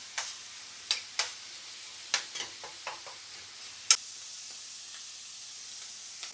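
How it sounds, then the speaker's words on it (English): Skirt steak sears in a hot pan for Tagliatelle Bolognese, giving a quiet steady sizzle punctuated by a run of sharp clicks and taps of a utensil against the pan, close and with no one speaking. "the skirt steak needs heat. We're going to slowly cook it in here"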